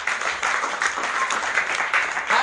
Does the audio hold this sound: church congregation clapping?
yes